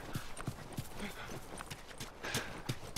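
Horse hooves clip-clopping in The Last of Us video game: a near, even gait of hollow hoof knocks, about three per second, with faint game ambience behind and no talk.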